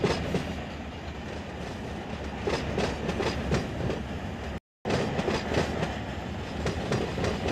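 A long freight train rolls past steadily in the Run 8 train simulator, its wheels clicking rhythmically over rail joints in a continuous rumbling clatter, with one brief cut of silence midway.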